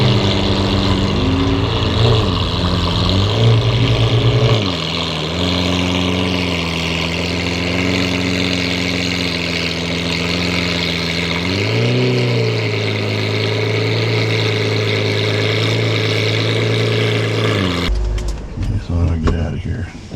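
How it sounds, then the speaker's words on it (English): A Lamborghini Aventador's engine runs at a steady, loud idle-like rumble during a parallel-parking maneuver between cones on a DMV driving test, with the pitch rising briefly as the throttle shifts before it cuts off near the end. "So Mason has to get that Aventador between those cones"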